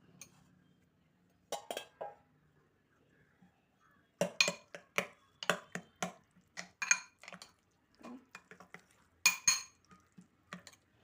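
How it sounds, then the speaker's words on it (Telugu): A spoon mixing chutney in a bowl, irregular bursts of bright clinks and scrapes against the bowl, close and fairly faint with quiet gaps between, no talk. "అందుకని ఇలా వేసి బాగా కలపాలి"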